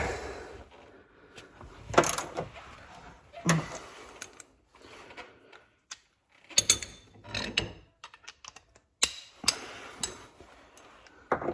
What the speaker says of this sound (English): I'm just tightening it in again.